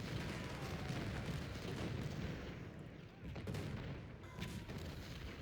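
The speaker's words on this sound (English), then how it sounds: "The cannons are going to come back forward. Resume this bombardment after bombardment." Cannon artillery bombardment in the Civil War strategy game Ultimate General at Fredericksburg, with a dense, distant barrage of booms and thumps rumbling continuously at low volume.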